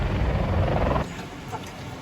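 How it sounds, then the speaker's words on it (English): Helicopter rotor noise from a chopper parked far off at a work site in Woody Creek, a steady rumbling thump that drops in level halfway through and continues as a fainter background drone. "It is a chopper."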